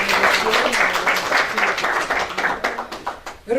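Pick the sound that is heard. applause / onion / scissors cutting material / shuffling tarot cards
applause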